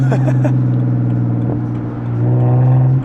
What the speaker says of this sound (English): And my car is loud.